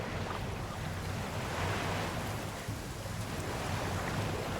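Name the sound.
waves crashing water noise in video game Infinity Nikki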